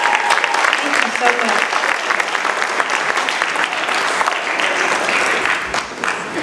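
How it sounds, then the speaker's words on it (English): Audience at a city address gives a sustained round of applause, dense steady clapping filling the hall for several seconds before easing slightly at the end. "Just give them another round of applause."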